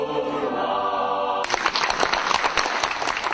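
A concert audience bursts into loud, sustained clapping as a fathers' vocal ensemble takes the stage at a Christmas performance, the applause starting abruptly after a musical passage.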